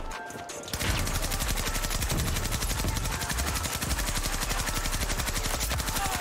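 Rapid automatic gunfire in the video game Battlefield 2042, a dense, loud, continuous burst of rattling shots starting after a brief quieter moment and sustained to the end, with a heavy low rumble underneath.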